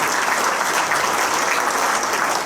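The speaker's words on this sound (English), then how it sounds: "Can we have a nice round of applause for the inductees from Tamaqua prior year?" Dense, even applause from an audience at a sports Hall of Fame induction ceremony in a memorial hall, a steady wash of many hands clapping throughout.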